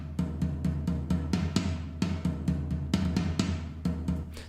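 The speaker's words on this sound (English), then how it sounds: "The next group of drums are the floor toms." Epic cinematic floor toms from the Maliki Kontakt sample library, played in a steady run of deep booming hits, about a dozen strikes with short decays and varied spacing, loud and up close.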